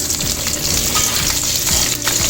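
Cut green chillies sizzle loudly in hot frying oil while being stirred, a steady crackling fry with scraping strokes and no voices.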